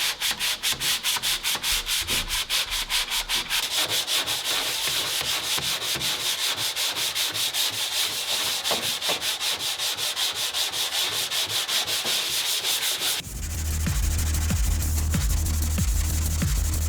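Arcade cabinet filler being hand sanded with a sanding block, steady rapid back-and-forth scraping strokes close up, continuous throughout and alone, with a duller heavier rub near the end.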